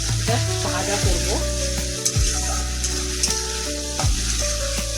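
Cumin and chili paste frying in a pan, a steady close sizzle with occasional scraping stirs over a constant low hum.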